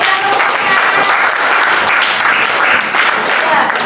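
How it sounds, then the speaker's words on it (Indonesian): Classroom applause from students in a lesson, steady broadband clapping sustained throughout at fairly loud level, with no pauses. "berikan tepuk tangan"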